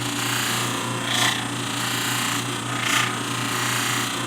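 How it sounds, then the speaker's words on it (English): A Beall white diamond buffing wheel polishing a wooden bowl, a steady motor whir with two brief rubbing swells as the bowl presses against the spinning wheel, with no talking. "we move on to the white diamond wheel, which is even finer, and it creates a very, very nice finish"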